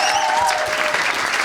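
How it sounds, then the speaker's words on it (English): A live audience at a rugby podcast event in a Fulham pub bursts into loud, close applause, a dense crackle of clapping that fills the whole short moment, with a faint whistle-like tone at the start. "Please give them an enormous round of applause."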